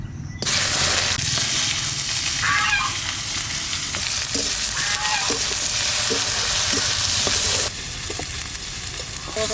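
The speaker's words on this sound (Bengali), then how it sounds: "পেঁয়াজটা ভাজা ভাজা হয়ে গেছে" Onions frying in mustard oil in a hot iron wok give a loud, dense sizzle close by, with repeated scraping and stirring strokes and occasional squeaky tones over the crackle throughout.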